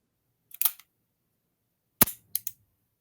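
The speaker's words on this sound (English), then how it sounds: "It's a Ruger Blackhawk." A Ruger Blackhawk revolver with a transfer-bar safety gives off sharp metallic clicks and clacks, a single snap then a short cluster of handling clicks, close and crisp against silence.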